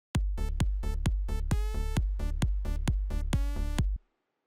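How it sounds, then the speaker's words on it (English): A simple synth melody in FL Studio for Melbourne Bounce, about a dozen short, plucky notes in a steady rhythm, a couple with brighter tones, played alone before stopping abruptly. "So I made this really simple melody."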